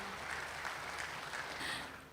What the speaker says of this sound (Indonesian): Boleh minta tepuk tangannya hadirin sekalian.